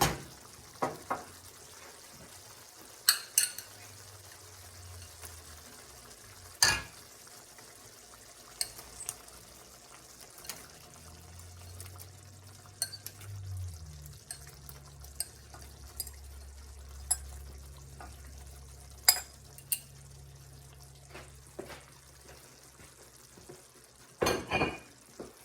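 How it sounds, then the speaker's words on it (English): Shrimp stirred into a pot of simmering shrimp etouffée: quiet, scattered clinks and scrapes of a spoon against the pot over a soft low bubbling, with no talking. "now we are going to add our shrimp and then salt and pepper to taste"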